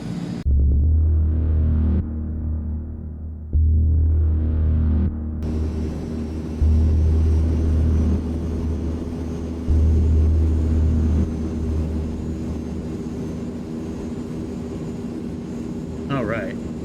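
Engine drone of a Transall C-160 military transport plane taxiing to the runway in an Xbox flight game, a steady low rumble with rhythmic throbbing pulses underneath, and a person talking over it.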